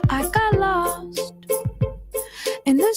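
A song plays, with a female vocal line over sparse piano-like accompaniment, clear and close, the phrases broken by short gaps.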